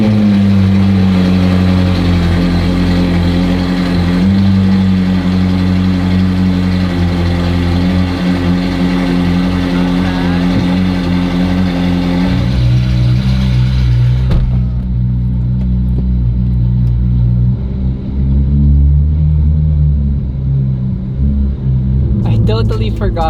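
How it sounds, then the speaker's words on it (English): A Ferrari 458 Spider with a GT3 Rift exhaust runs after a cold start, a loud, sustained high-idle drone whose pitch steps down partway through as the revs settle, with a voice talking over it. "Cold start 458 Spider"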